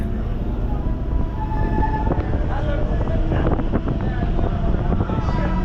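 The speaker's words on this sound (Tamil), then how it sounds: "குரோம்பேட்டையிலேருந்து இப்போ ட்ரெயின் ஸ்டார்ட் ஆயிடுச்சுங்க" A suburban train departing Chromepet station near Chennai rumbles steadily along with continuous low mechanical noise, wind buffeting the microphone and faint rattling clanks throughout.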